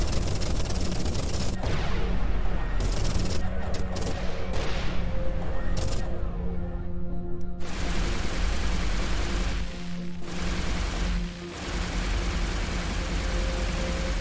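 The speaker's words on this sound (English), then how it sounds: "Apparently I'm awful at shooting down mines." Weapons fire at mines in the space game Everspace 2 in a loud, dense, crackling barrage that runs almost without pause and briefly drops away twice near the end.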